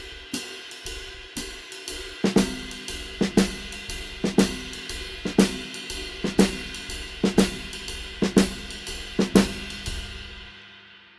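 A jazz drum kit plays two-note groupings in a swung shuffle, about a dozen evenly spaced paired strikes ringing close and clear with no talking.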